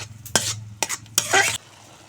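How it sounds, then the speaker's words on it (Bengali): A spoon stirs tomato paste and spices through hot oil in a pan, three quick scraping strokes with a bright sizzle, close and loud with no talk. "এখন মশলার সঙ্গে ভালো করে কষিয়ে নেব"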